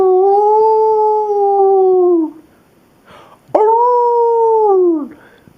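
A voice imitates a coyote howl in two long, loud wavering calls, each sliding down in pitch at the end, with a brief pause between them and no other sound.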